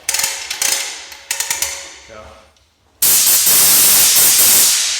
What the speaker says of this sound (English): You got our other hose reels in the ceiling.